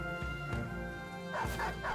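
A war dog in the video game Battle Brothers barks several times in quick, sharp bursts, loud and close, over a steady low game ambience.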